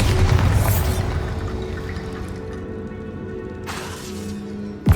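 A Bombarda blasting spell explodes in the Hogwarts Legacy video game, a deep rumbling boom that fills the space and slowly fades into debris and echoing noise, followed by a sharp crack at the end.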